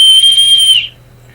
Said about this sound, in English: They made such a noise that Michael came running, waving his arms and blowing his whistle.